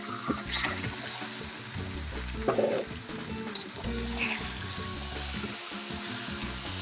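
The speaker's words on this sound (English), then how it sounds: "Now that your sugar is well caramelized, you add your meat to saute it well." Meat sautéing in caramelized sugar for Hokkien zongzi filling, a dense crackling sizzle with occasional stirring knocks, close and steady without talk.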